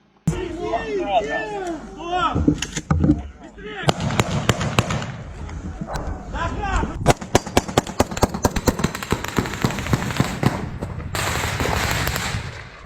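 Rapid, repeated bangs of tube and rocket artillery fire in the Bakhmut area crackle in dense bursts, loud and continuous, with people talking at the start.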